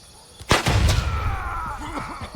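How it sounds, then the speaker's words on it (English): A grenade blasts on a rooftop in the military shooter Gray Zone Warfare, one sudden loud boom that rumbles and rolls off over the next two seconds, with a faint voice at the tail. "as I was laying up there, a grenade landed right next to me."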